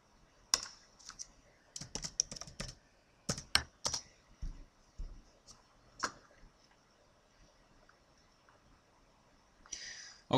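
Scattered typing on a computer keyboard: sharp, close clicks in short irregular clusters separated by pauses, with a quiet hum beneath and no talking.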